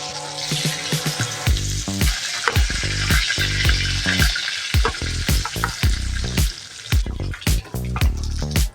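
Close, steady sizzling of rohu fish frying in hot oil, with a continuous crackle and frequent sharp pops and spatters; no one speaks.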